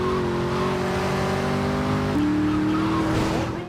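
The Hellenbach GT sports car from the video game Grand Theft Auto: Liberty City Stories drives with a steady, loud engine drone that shifts pitch partway through, alone without voices.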